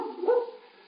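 Dog barking as a radio drama sound effect in a 1950s police series, a short single bark-like yelp standing alone and fairly close.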